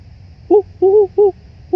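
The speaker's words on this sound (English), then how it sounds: "The owls are hooting again." Owls hooting outdoors on a cold night, four short, loud hoots in quick succession.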